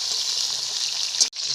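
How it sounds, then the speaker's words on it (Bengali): Eggplant and beans frying in mustard oil in a pan at an outdoor picnic give a steady, close hiss and crackle, with a brief clatter and a short break near the end. "সর্ষের তেল দেওয়া হয়ে গেল। এখন সবজিগুলো ভাজার জন্য"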